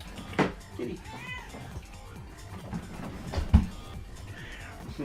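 A cat meows a few times in a Danganronpa V3 game scene, short drawn-out mews set against voices talking and background sounds.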